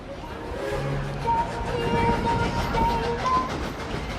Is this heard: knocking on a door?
no